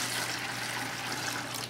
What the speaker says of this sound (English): about an inch worth of water at the bottom.